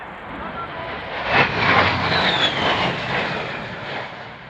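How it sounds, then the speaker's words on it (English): An A-10 Warthog jet pulling into a vertical climb at an air display, a roaring jet engine that swells to a peak and then eases off, heard from a distance. "Now, with Captain Shutterly straight into the vertical, demonstrating the Warthog's power and maneuverability in all attitudes of flight."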